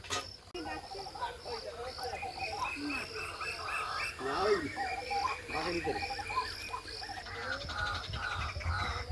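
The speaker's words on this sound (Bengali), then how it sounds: "পাখির ডাকটা শুনতে পাচ্ছ" Birds calling at dusk in a Sundarbans village at Jharkhali, with repeated chirps and warbling over a steady chorus of insects and frogs, moderately distant and faint.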